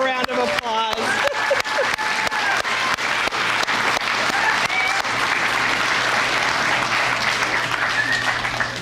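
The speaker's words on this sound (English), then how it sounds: "Let's give them one more round of applause" Applause for graduating EMS Academy summer class of 2014 at a graduation ceremony, a large audience clapping steadily and loudly throughout after a few brief voiced sounds at the start.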